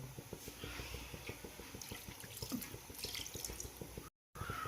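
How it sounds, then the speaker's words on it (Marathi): Quiet bubbling and sloshing of water just added to frying onions in a pan, with rhythmic scraping and stirring underneath; faint and fairly close, no voices. "आता आपण त्यामध्ये थोडं पाणी मिक्स केलं आहे"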